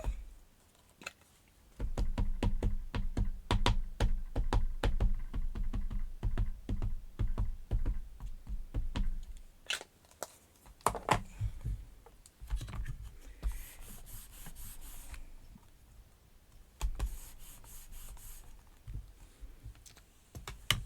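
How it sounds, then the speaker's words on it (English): World's Best craft tape being pulled and pressed down on a handmade birthday card, giving a busy run of close, quick taps, rubs and small clicks, then a pause and a few scattered softer handling noises. "we're just going to use our World's Best tape here and tape that down"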